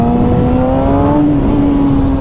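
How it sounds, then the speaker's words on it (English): A motorcycle engine held at high revs during a clutch-up wheelie, a loud, close, steady whine whose pitch drops slightly partway through, with no voices. "once I clutched it up and once I released the clutch, the RPMs dropped back down"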